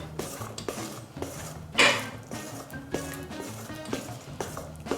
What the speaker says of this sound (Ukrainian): Далі додаємо молоко, перемішуємо, додай ще.